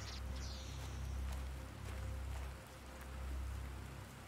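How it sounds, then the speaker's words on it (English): Rain falls in the survival video game Planet Crafter, a soft, steady hiss of drops that swells and fades gently with no voices over it. "It's raining."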